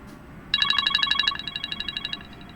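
An Apple iPhone ringtone from iOS 7 to 16 plays a rapid, bright, repeating electronic melody of quick chiming notes. It starts abruptly after a moment of quiet, then softens partway through while the pulsing pattern continues.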